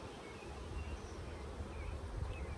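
Honeybees hum in a steady, soft drone around an open hive, low and continuous with no pauses, and no voice is heard over them.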